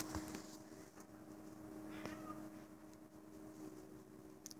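A domestic cat meows indoors, a short call standing out over steady low background hum while a dog is being trained nearby.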